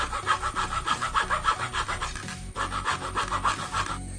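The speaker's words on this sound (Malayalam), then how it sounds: "ഈ ചുള്ളിക്കമ്പ് നമുക്ക് നടുവേ നിന്ന് കട്ട് ചെയ്തെടുക്കാം." A small twig being cut down the middle while making a small DC-motor lathe for craft work: rapid, even back-and-forth rasping strokes, close and steady, with one brief pause partway through and no speech.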